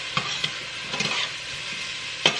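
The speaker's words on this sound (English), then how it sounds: "I'm going to saute this onion until it's translucent" Onion sautés in a pan for Zuppa Toscana soup, giving a close, even sizzle broken by a handful of brief scraping stirs over about two seconds.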